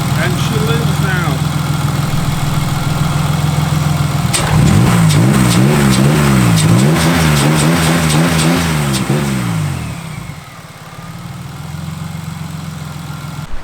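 A repaired car engine idles steadily, then revs repeatedly in quick surges for several seconds before dropping back to a smooth idle, loud and close, with a voice briefly heard among it.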